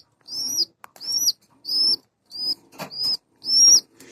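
Giribaz pigeons give six short, sharp, high squeaks in an even series, close and clear against silence, with a faint soft flutter between them.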